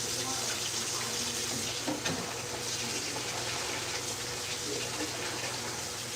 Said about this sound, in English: I'm getting all the starch out this rice.